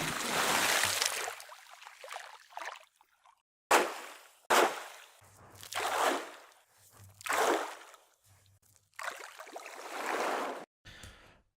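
Water sound samples play back as short bursts of splashing and gushing, several separate swells with brief silent gaps between them, fairly close and moderately loud.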